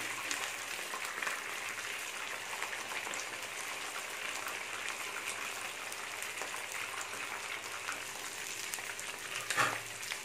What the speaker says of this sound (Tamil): எல்லா சிக்கனையுமே நம்ம இந்த மாதிரி எண்ணெயில் போட்டு பொரிச்சு எடுத்து வச்சுக்கணும்